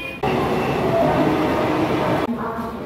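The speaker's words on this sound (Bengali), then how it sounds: "যা দেখছি আমাদের মেন লাইনের ট্রেন বেশ টাইম মেনটেন করছে, একদম টাইমে ঢুকলো আমাদের শান্তিপুর।" A main-line local train arriving at Santipur station rumbles loudly and steadily close by, a continuous rolling roar that cuts off abruptly near the end.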